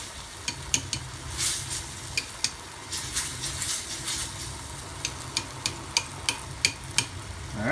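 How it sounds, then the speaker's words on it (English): A spoon stirs simple tomato pasta sauce in a pan, making a regular series of sharp scrapes and clinks over a low, constant simmering sizzle, heard close up without speech. "Stir it up."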